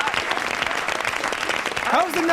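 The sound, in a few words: studio audience clapping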